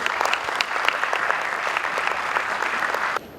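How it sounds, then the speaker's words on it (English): An audience at a Rotary Allahabad Midtown blood donation van event applauds a guest of honour, a justice. The clapping is dense and steady, with crisp individual claps throughout, and stops abruptly near the end. "request the audience to greet him with a resounding round of applause"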